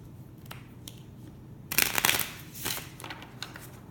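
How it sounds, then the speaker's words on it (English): A crystal oracle card deck is shuffled with a brief, louder rustling riffle, then softer card flutters and taps, close up and without voices. "we're going to pull a card from the crystal deck."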